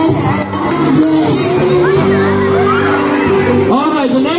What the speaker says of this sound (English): a round of applause for Aditya